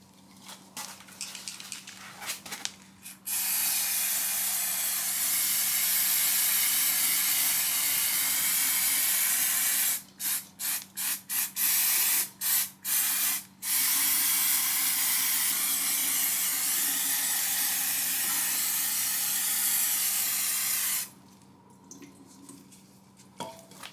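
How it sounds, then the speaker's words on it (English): Brake cleaner is sprayed onto a differential in a loud, sustained aerosol hiss lasting many seconds, then several quick short spurts, then another long continuous spray, with quiet clinks between. "We're going to spray this with a bit of brake cleaner, get any oil residue off"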